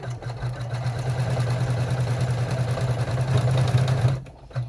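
An embroidery machine stitches the side seams of a reusable snack bag in the hoop, giving a close, steady mechanical whir with a fast regular pulse that stops abruptly near the end.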